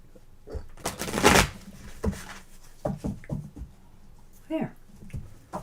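Tarot cards being shuffled by hand, giving a loud riffling burst early on followed by softer intermittent card slaps and rustles, with talking in between.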